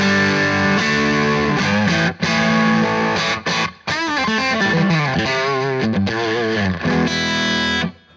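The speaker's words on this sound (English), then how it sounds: "which is their version of a JCM 800 type amp, it sounds like this" A distorted electric guitar plays crunchy chords and riffs through the JCM 800-style model on a Vox VT20X modelling amp, loud and continuous, with a few brief pauses between phrases.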